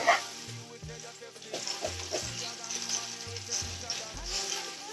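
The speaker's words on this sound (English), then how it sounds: "Just continue stirring." Ground meat stirred and frying in a pan for meat pie: a steady sizzle with scraping stir sounds, and background music with low tones runs throughout.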